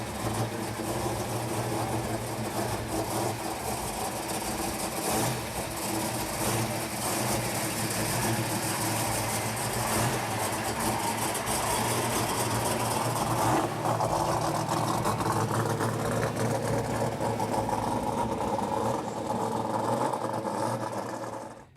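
A customized odd rod car at a Hot August Nights show, its engine running steadily as it drives off, a loud continuous rumbling drone that fades out at the very end.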